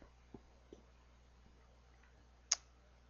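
A computer mouse clicking on an OK button in software, a few faint soft ticks followed by one sharper, louder click near the end, close and otherwise quiet.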